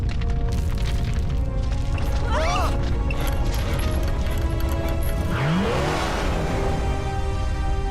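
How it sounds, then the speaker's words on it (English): A loud, continuous mechanical rumble and grinding roar fills an animated scene during an earthquake, with rattling, metallic clanks and shifting crashes throughout, no talk heard. "We just had an earthquake."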